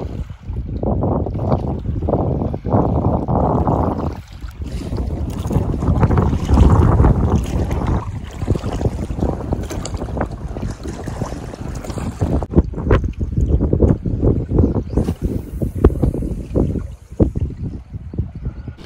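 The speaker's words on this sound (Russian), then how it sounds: "Ветер даже с заходом солнца, к сожалению, продолжает дуть" Strong wind gusts roar and buffet continuously across open sea off Norway, with rushing noise and occasional thumps of a fishing boat rocking in the waves.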